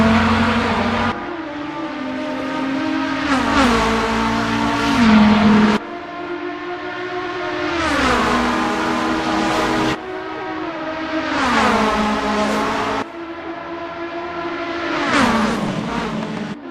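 Race cars, a Nissan among them, roar down the Le Mans straight in a racing game, several engines screaming loudly in overlapping passes, each one rising in pitch and then dropping as it goes by.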